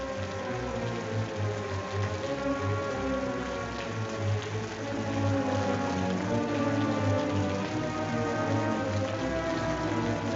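Steady rain pours down in an even, unbroken hiss that stays moderately loud throughout, with a low hum underneath and no voices.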